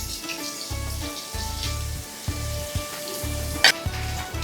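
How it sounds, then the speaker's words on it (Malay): Onions and garlic sautéing in hot oil for seafood mee goreng, a steady close sizzle broken by repeated rhythmic stirring scrapes and an occasional sharp clink. "Minyak dah panas, kita tumiskan bawang besar,"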